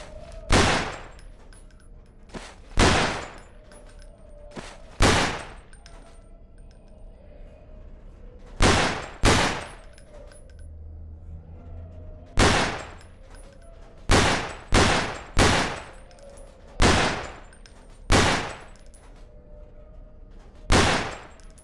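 Gunfire from target practice at pop-up targets in the video game Underhell, heard as about a dozen sharp, loud shots in irregular singles and quick pairs, each with a short decaying tail, separated by quiet gaps.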